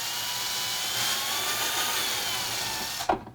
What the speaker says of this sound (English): Now I'm going to drill my hole.